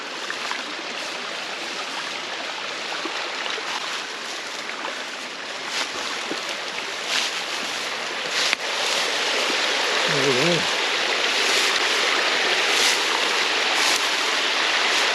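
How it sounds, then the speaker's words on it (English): A waterfall roars as a broad, steady rush of falling water that grows louder partway through, with a brief voice heard over it. "Waterfall."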